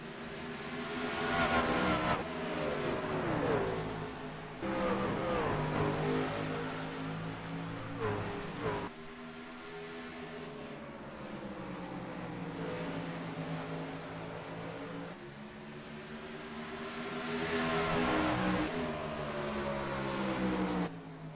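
Race trucks roar past at Bristol Motor Speedway in a truck series race, with engines rising and falling in overlapping waves as they pass, loud and continuous, with no voices.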